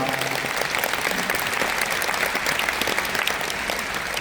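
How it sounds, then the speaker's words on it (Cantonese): Sustained audience applause fills a live pop concert venue, a dense, steady wash of clapping and crowd noise holding at high level throughout without pause. "俾大啲掌聲你哋"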